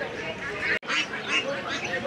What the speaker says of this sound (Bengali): বেশ কালারফুল হাঁস, চীনা হাঁস আছে